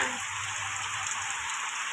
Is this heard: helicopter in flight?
no